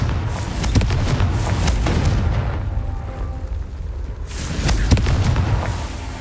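A Confringo fire-blast spell from Hogwarts Legacy detonates in a loud explosive boom, followed by a quieter rumbling lull and then a second burst of blasts and crackling game effects.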